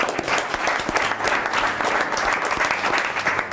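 Steady applause from a seated audience honoring seniors at a West Orange, New Jersey town council meeting, dense continuous clapping filling the room with no voices.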